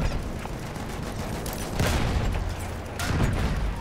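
Gunfire rattles in the Battlefield video game near a tank, with sustained bursts of shots and two louder, heavier volleys standing out from the continuous crackle, and no voices.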